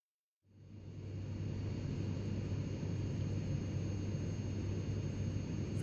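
Airbus A320 jet engines spool up and hold a loud, steady roar with a low hum and high whine during the takeoff roll, alone with no voices.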